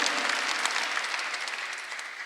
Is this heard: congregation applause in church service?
yes